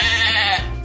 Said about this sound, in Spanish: ¿Será la oveja?